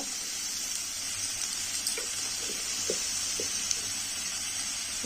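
Ginger-garlic paste with turmeric, cumin and chilli powder sizzling alongside broccoli, onion and tomato in a pan, a steady hiss with a few soft stirring taps, close and moderately quiet, no voices.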